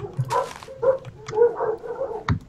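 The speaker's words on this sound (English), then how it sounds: "Sorry about the dogs, guys." Dogs bark and yip in short bursts in the background of a Minecraft game session, a few quick barks and whimpers scattered through the clip at moderate loudness.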